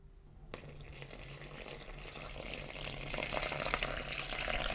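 Water runs steadily from a tap or jug into a mixing bowl holding flour, yeast and salt for bread dough, a continuous close splashing pour that grows slightly louder as it goes, with no talking.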